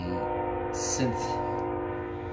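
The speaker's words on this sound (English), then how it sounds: "Sorry about the train." A train passes close by with a steady low rumble and a sustained horn tone running under a man's speech, with a brief squeal partway through.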